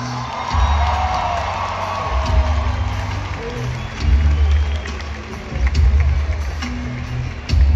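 Arena concert crowd cheering and applauding for a band member during a live show in Monterrey, a roaring mass of whoops and shouts rising in waves over a low rumble of the hall.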